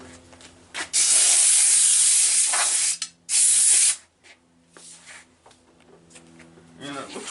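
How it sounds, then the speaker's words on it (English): Two loud bursts of compressed air blow across a Mercedes-Benz W116 Euro headlight lens during cleaning, the first about two seconds long and the second shorter, with quiet handling noises between and after. "We got some compressed air here."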